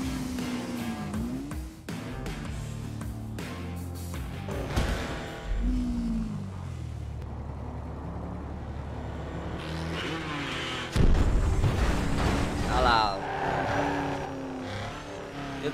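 A car engine in the video game GTA 5 revs and races, with rising and falling engine pitch, gear changes and a burst of louder acceleration near the end, mixed with game music.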